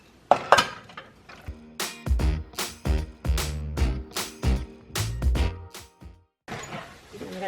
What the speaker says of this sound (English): we're going to layer half of this ziti mixture into the bottom of the pan to start with